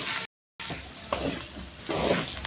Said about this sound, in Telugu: ఇప్పుడు దీన్ని బాగా ఫ్రై చేద్దాం.